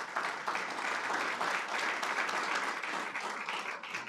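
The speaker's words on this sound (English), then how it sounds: "Give those two a round of applause." Audience applause at a college celebration event, a steady dense wash of many hands clapping at once, fairly distant and soft, continuing evenly throughout without talk.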